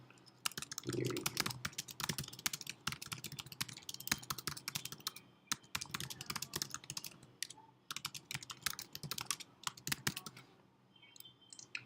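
Typing on a computer keyboard, a quick irregular stream of close, crisp key clicks with short pauses between bursts.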